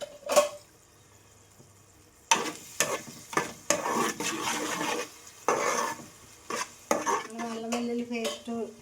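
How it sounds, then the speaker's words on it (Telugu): Onions, green chilies, tomatoes, ginger-garlic paste, salt and turmeric cook in a pan for chicken curry, with a spoon scraping and clanking against the metal in irregular bursts and a soft sizzle beneath. "ఉల్లిపాయలు పచ్చిమిరకాయలు టమాటాలు అల్లమెల్లిలు పేస్టు ఉప్పు పసుపు అన్నీ వేసి అయితే ఉల్లిపాయలు అయితే మగ్గబెట్టి వేసుకుంటున్నానండి"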